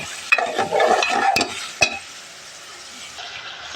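Baim fish being stirred and fried with spices in a pan, with a loud close sizzle and a few sharp utensil clinks that fade to a softer hiss after about two seconds.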